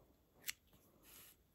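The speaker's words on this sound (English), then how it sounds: "at this point, I can cut the yarn" Scissors make a single quick snip through crochet yarn, sharp and close, after finishing a round crochet kitchen scrubby, then a softer rustle of handling follows in a quiet room.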